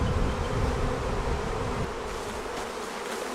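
Honey bees buzz steadily around a hive, a dense close-up drone that holds for the whole moment without any talk.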